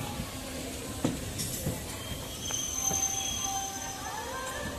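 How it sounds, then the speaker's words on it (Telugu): EMU special train from Tirupati rolling slowly just after leaving the station, with a steady interior rumble, occasional clanks and squeaks, and faint voices in the background. "బాగా స్లో అయిపోయింది ట్రైన్ అయితే."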